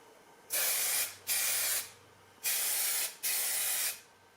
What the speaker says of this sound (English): Here's my test spray.